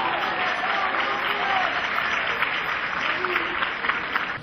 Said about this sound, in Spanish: Le damos el aplauso.